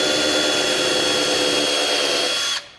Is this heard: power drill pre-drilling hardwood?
yes